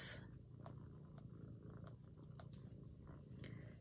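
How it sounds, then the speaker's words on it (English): A cat purrs steadily and close, a low continuous rumble with occasional faint clicks and soft licking sounds over it, with no talking. "And the cat is licking me"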